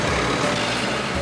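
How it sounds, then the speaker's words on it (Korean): A forklift rumbles as it pushes a scrapped truck into a shipping container at a junkyard in Incheon, with a loud steady engine drone throughout the brief moment. "모든 부품 적재가 끝나자 지게차로 트럭을 컨테이너 안으로 밀어넣기 시작한다."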